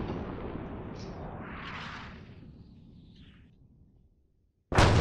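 Mortar rounds exploding in ArmA 3: a deep rumbling blast that slowly decays to near silence, then a sudden loud new impact cuts in at the end.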